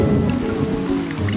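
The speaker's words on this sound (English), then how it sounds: "the rains are coming" Rain falling steadily, a dense close patter of drops on surfaces, loud and continuous throughout.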